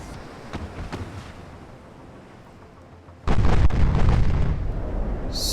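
Warship guns fire during a naval battle in Ultimate Admiral: Dreadnoughts, a few muffled distant thumps over sea ambience, then a heavy booming salvo that rolls on loudly with a sustained rumble.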